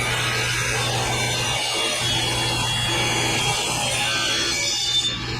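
A power saw cuts wood for porch railing bracing in a workshop, a steady buzzing whine running throughout at close range with no talking.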